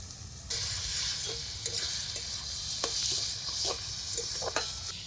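Vegetables with chopped green chillies and a little salt sizzle and fry in a wok for veg chowmein, with steady close hissing and repeated scraping stirs of a spatula throughout.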